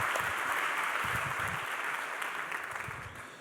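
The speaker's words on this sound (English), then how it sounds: "give him a round of applause from Rotterdam" A conference audience at Immersive Tech Week in Rotterdam applauds a speaker called to the stage, steady massed clapping heard from a distance that slowly fades toward the end.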